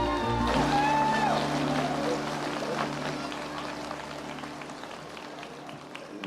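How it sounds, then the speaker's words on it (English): An audience at the Linux World conference applauds after the conference chair is introduced; the clapping is moderate and fades steadily over several seconds. "These guys have to clap."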